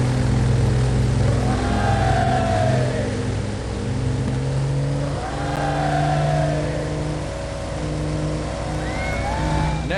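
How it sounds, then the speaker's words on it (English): Engines of a DH-88 Comet Black Magic aircraft drone steadily and loudly at the start of an air race, a continuous low hum with pitch rising and falling as the engines rev, and no voices. "First off are Amy and Jim Mullison in the DH-88 Comet Black Magic."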